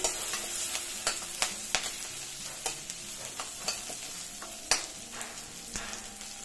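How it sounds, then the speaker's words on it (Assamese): Ginger, garlic and green chilli fry in a pan while a spoon stirs them, giving a steady sizzle broken by regular close clicks and taps of the spoon against the metal. "এনেকুৱাকৈ মাজে সময়ে মানে দাল পুৰিৰ লগত দালিখন খাই ভাল লাগে দি মই গোটেইখিনি ভালদৰে লৰাই দিছো"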